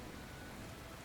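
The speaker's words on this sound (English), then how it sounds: "Oh, I don't like the rain." Steady rain in a VR game hisses as a dense, even wash of falling drops, continuous and fairly loud for about a second with no other sounds over it.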